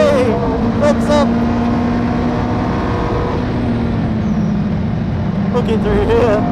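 Ferrari 430 GT3 Challenge race car on a track, its engine loud and close as it pulls back onto the power, a steady rising drone with rapid gear-change blips near the start and end.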